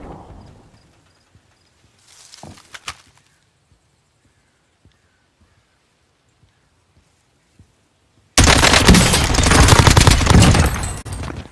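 A sudden, loud burst of rapid automatic gunfire in a shooter video game breaks in after a long quiet stretch of faint clicks and brief noises, then keeps going dense and continuous to the end.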